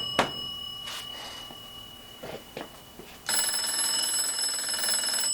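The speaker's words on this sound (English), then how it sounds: "it's not the loudest ringer in the world, but it does a pretty good job" An antique two-box oak wall crank telephone's bell rings steadily near the microphone from about three seconds on, a continuous metallic trill after a few quiet knocks and handling sounds.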